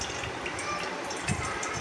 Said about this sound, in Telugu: ఈ గురిగాకు అనేది దీన్ని వాటర్ అంతా తీసుకోవాలి ఫ్రెండ్స్, వడకట్టి ఆకుకూర వరకు తీసుకోవాలి ఫిల్టర్ చేసి